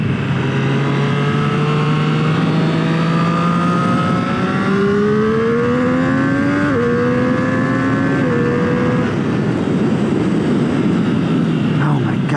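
A 2021 Triumph Street Triple R engine revs hard and accelerates through the gears, its rising pitch stepping up and dropping at each shift, loud and close over heavy wind rush.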